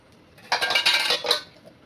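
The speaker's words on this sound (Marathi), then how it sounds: "आता आपल्याला ह्याला झाकून ठेवायचं आहे." A lid set down over a dosa cooking in a pan gives a brief metallic clatter and rattle lasting about a second, then settles into quiet.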